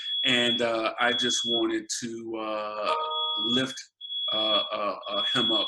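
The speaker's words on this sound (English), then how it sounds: "I don't know if you can hear that beep in the background, somebody cooking downstairs." An alarm beeps steadily in the background from someone cooking downstairs, a thin high-pitched tone running under close, continuous conversation.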